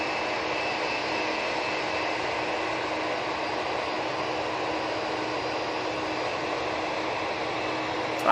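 Turboprop aircraft arriving at Manchester Airport, a steady, moderately loud propeller drone with a constant tonal hum and broad rushing noise, without talking.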